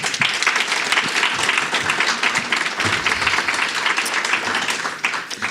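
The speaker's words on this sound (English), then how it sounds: "Let's give them a round of applause." An audience at the 2019 Pozen Prize for Innovative Schools award ceremony applauds, steady full-room clapping sustained throughout at moderate volume with no talk over it.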